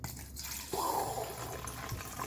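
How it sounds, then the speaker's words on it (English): Water splashes and sloshes into a sink while produce is being washed, starting with a sudden gush and settling into a softer running spill that lasts a couple of seconds. "And you just splashed it all over the place"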